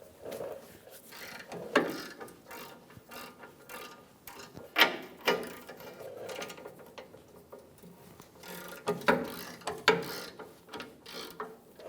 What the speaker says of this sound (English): Using a 21 millimeter socket, we're going to remove the nuts on the back of the impact absorber.